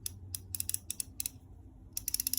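A fine-tooth quarter-inch drive ratchet clicks in quick, crisp bursts of tiny ticks, with short pauses between bursts, close up and alone.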